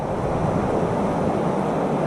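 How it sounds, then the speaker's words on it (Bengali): A small river flowing beneath a little footbridge, a steady, loud rushing wash of water with no breaks and no voices. "এই দেখুন নদীটা চলেছে"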